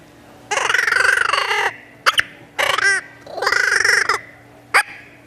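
A deer call blown to imitate raccoon chatter gives harsh, buzzy, squealing bursts: two long wavering calls and shorter chirps, loud and close, with no talking.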